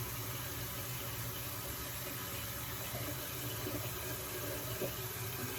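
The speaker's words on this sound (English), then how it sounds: "I begin by washing my face with the Palmer's soaps and things like that." Water runs steadily from a tap while someone washes their face with Palmer's soap at a sink, a constant low rush with faint splashes and no talking.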